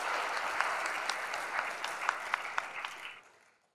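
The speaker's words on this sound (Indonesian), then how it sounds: "Tepuk tangan untuk kita semua." Applause from an audience at a 2021 graduation ceremony, a dense patter of clapping with a few sharper individual claps standing out, steady before fading away at the end.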